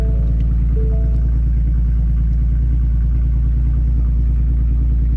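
Ford Mustang engine idling after a Bama tune, a loud, steady low rumble with a deep, even throb that holds unchanged throughout, heard close with no talking.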